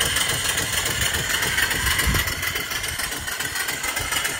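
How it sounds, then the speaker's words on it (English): A small steam engine runs on a boiler holding over 100 pounds of pressure, giving a steady, rapid mechanical chugging and hiss, close and continuous for the whole stretch. "The engine runs perfect."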